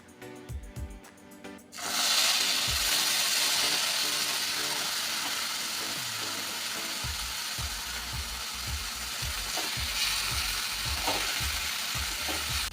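Tomato paste drops into a hot pan of fried spices and sugar for an eggplant dish, bursting into a loud, steady sizzle and steam hiss, with the dull scrape of a spatula stirring now and then.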